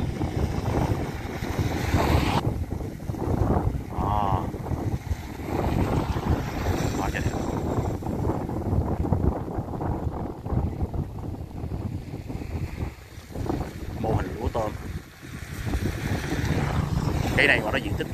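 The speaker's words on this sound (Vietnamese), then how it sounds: "Gió hơi lớn, hơi rồ xíu." Strong, steady wind buffets the microphone aboard a boat on the water near rice-and-shrimp farm ponds at Ba Tri, Ben Tre, a continuous roaring rumble with faint engine and water sounds and brief speech beneath.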